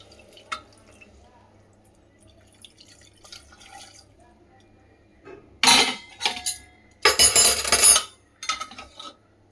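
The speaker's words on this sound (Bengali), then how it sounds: "এই মোমেন্টে আমি দিয়ে দেবো হচ্ছে গরম জল।" Hot water splashes into a pan of chicken keema with chana in two short, loud pours near the end, following faint clinks and drips in a quiet kitchen.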